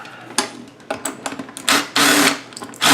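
Screws are driven out of the casing of an American Idol CD karaoke machine, short bursts of whirring driver noise and scraping clicks coming in uneven spurts, close and fairly loud.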